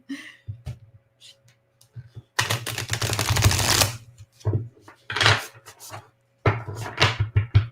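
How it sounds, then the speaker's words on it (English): Tarot cards shuffled by hand, a dense riffling burst lasting over a second followed by several shorter rustling bursts, close and fairly loud, with a steady low hum underneath. "I'm going to give my cards a big shuffle"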